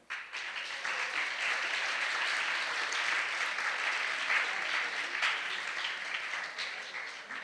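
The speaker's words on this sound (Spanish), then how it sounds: "Fuerte aplauso por..." Sustained audience applause at a lecture event on Benito Juárez and the Reform in Coahuila, a dense, steady wash of many hands clapping that starts abruptly and holds for several seconds before easing slightly.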